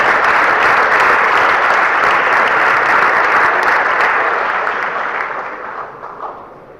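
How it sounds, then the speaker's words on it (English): Conference audience at the Agile Serbia event gives a warm round of applause for two speakers, a thick steady wash of clapping from many hands that holds strong before tapering off near the end. "Please give them a warm applause."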